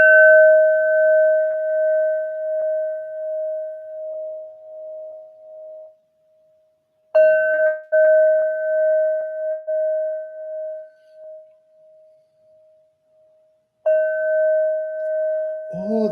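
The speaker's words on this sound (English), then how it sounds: "So let's do the bells to clear the air" A bell is struck three times to clear the air, each strike ringing out as a steady, pure sustained tone that slowly fades before the next, close and fairly loud with no talking.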